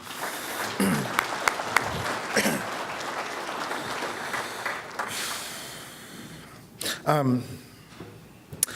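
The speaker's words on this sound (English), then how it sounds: "they're worth a round of applause as well" Applause from an audience at a youth panel on reconciliation, a round of clapping for parents, guardians and teachers, fairly steady across the room with voices and noises cutting through and a louder burst near the end.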